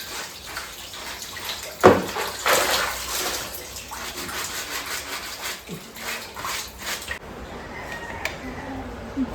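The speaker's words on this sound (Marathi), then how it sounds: "इकडे बघा पाणी सर्व चाललंय बाहेर" Water spills over the brim of a full household water tank, a steady rushing splash that continues throughout with a sharp knock near the start.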